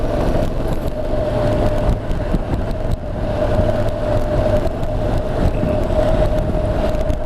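A Honda NC750X DCT motorcycle accelerating on the road, with a loud continuous engine drone mixed with wind rush, close and sustained throughout without talk.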